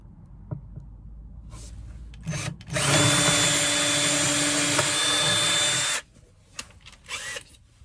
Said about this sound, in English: First I'll drill the pilot hole there.